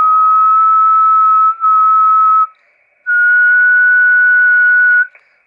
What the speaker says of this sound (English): If we do a whistle